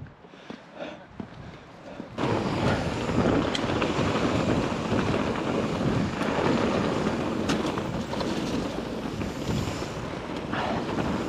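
Wind buffets the microphone in a loud, continuous roar at Bike Park Wales on a cold day, after a quieter start, gusting unevenly with no voices heard.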